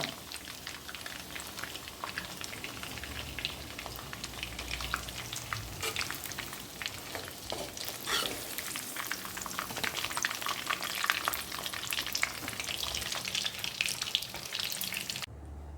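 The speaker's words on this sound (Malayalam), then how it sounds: "ഇപ്പോൾ നമ്മുടെ അവസാന ബാച്ച് ചിക്കനും നമ്മളിവിടെ വറുത്ത് കോരിയെടുക്കുകയാണ്." Chicken pieces deep frying in a kadai of oil for chilli chicken, a dense continuous bubbling sizzle that stays close and even throughout, with no talking over it.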